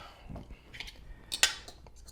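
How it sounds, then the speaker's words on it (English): A fork breaks up and stirs canned tuna in a bowl for a tuna melt, making faint, scattered scraping clicks and one sharper clink of metal against the dish, all quiet and close. "take a fork and kind of break it all up"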